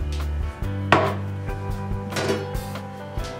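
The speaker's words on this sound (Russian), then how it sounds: "Помидор нам нужно нарезать колечками." A knife slices a tomato into rings on a board, with a few distinct chopping taps and slicing strokes, close up and unhurried.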